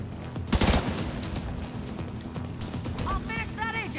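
Turret gunfire in Tom Clancy's The Division 2, a short rapid burst of automatic shots near the start, followed by game noise, electronic chirps and a voice speaking.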